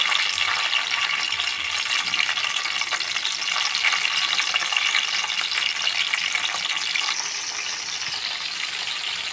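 Small pieces of green chilli fry in hot oil in a pan, giving a dense, crackling sizzle that stays loud and continuous, close up, with no voices.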